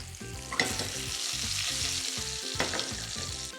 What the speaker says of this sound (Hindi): हाई हीट पर इसे पकाना है ताकि इसके ऊपर हल्का सा एक रंग आ जाए।